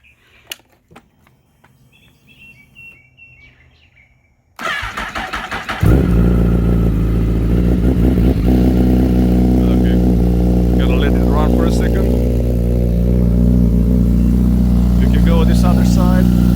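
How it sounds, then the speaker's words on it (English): A used motorcycle engine cranks and fires up after a quiet stretch, then settles into a loud, steady idle with a rapid, even throb, running close by while someone talks over it. "listen to the engine. Make sure it's running smooth"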